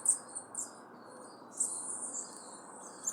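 Birds chirp in a garden where hummingbirds and bananaquits feed, with several thin high twitters coming and going over a constant insect-like hiss, fairly faint and with no talk.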